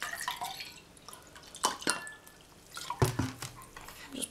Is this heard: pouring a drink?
yes